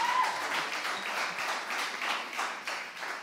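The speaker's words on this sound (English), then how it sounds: "A big round of applause for Ingrid" Livestreamed contest finale audience applauding a winner, a soft, steady patter of many hands clapping at some distance, continuing evenly throughout.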